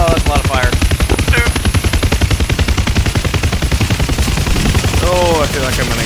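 Dense, rapid bursts of gunfire and chattering machine-gun fire in the DCS AH-64 helicopter combat game, steady and loud throughout, with brief voices breaking in near the start and end.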